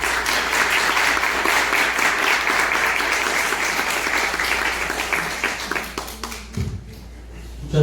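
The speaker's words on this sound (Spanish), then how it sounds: "Recibámoslo con un fuerte aplauso." An audience at a book presentation bursts into loud, sustained applause that thins into scattered claps and fades near the end.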